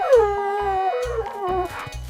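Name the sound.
husky dog howling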